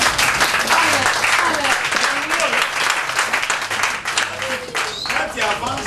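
Church congregation applauding the sermon, a dense, loud, sustained round of clapping from a crowd filling the room, steady throughout with a few voices mixed in.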